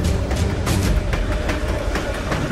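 A train rolling along railway tracks gives a steady, loud rumble broken by regular clacking beats, with no voices over it.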